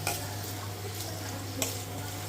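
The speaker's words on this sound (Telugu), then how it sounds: "ముల్లింగి అయితే వేగించానండి" Radish pieces sizzle steadily in an oil-filled pan while being stirred, with a constant low hum underneath and a couple of brief scraping clinks of the spoon against the pan.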